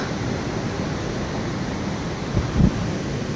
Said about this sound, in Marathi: पाण्याचा